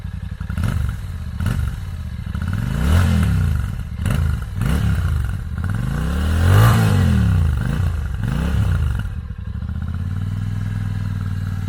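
A 2025 Royal Enfield Classic 650 motorcycle starts and runs nearby, its twin engine rising and falling through several throttle blips with a clattery, throbby tone before settling into a steady idle.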